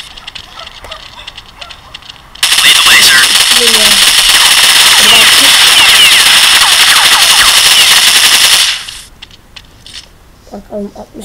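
Sustained rapid automatic fire from a 60-round gun in Counter-Strike, a loud dense burst running about six seconds straight, with brief quieter game sounds before and after.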